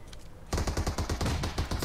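Gunfire in a PUBG-style battle royale video game bursts in after a brief quieter moment, with loud, rapid automatic shots rattling continuously.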